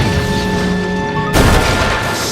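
A sudden loud crash as a train smashes into a derailed brake van after a sustained mechanical hum, followed by a noisy rumbling clatter fading out.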